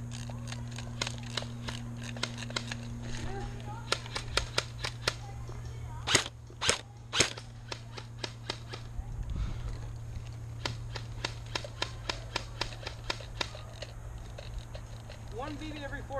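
Airsoft guns fire BBs during an outdoor airsoft game, a string of quick sharp snaps and clicks spread across the scene, a few louder close shots among fainter ones, over a steady low hum with players talking.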